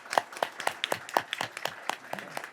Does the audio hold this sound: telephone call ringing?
no